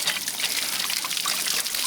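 Water drains and trickles from a Dometic SW10DEM water heater tank during a flush, a steady close pouring gurgle with no talk over it.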